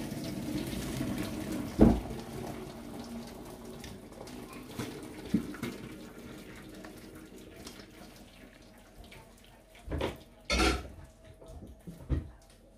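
Boiled rice for Pakistani zarda sweet rice is rinsed under a running kitchen tap: a steady hiss of water with a few louder splashes and clatters near the end, and no talking.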